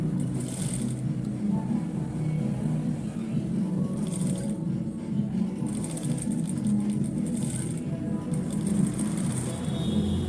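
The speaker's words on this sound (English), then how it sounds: "I'm going to be sewing this just like this" A sewing machine runs steadily while stitching a suit collar, a continuous low mechanical drone with a faint rattle, close and unbroken the whole time, with a soft hiss at times above it.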